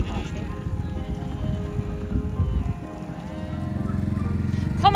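Sheep rams (tups) scrapping on a farm: dull thuds and scuffling of the fighting animals, with a short bleat rising near the end.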